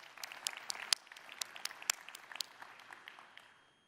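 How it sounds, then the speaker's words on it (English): Scattered applause from a small audience at a Xiaomi launch event, with irregular individual claps that thin out and fade toward the end, faint and without talk. "Yep, give a hand of applause."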